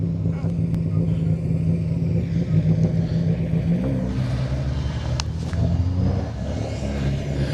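A BMW rally car during the 2025 RAC Rally, its engine giving a low, steady throaty drone, close and fairly loud, with a brief rise in revs; a voice is faintly present.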